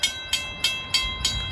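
Railroad crossing on 12th Avenue in Nashville with a train going by, heard as five evenly spaced sharp clacks about a third of a second apart, close and moderately loud over a low rumble with steady tones running beneath.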